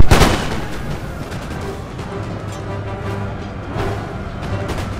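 Battlefield gunfire in Empire: Total War: a loud opening volley cracks out, then a steady rumble of scattered musket shots and distant cannon booms rolls on, with another swell of firing near the end.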